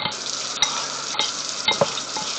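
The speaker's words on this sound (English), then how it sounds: "I'm going to add this shrimp to the marinade" Raw shrimp being stirred and coated in a marinade in a bowl, ready for grilling, with a steady wet, broadband swishing and a few sharper clicks and knocks, close and fairly loud throughout.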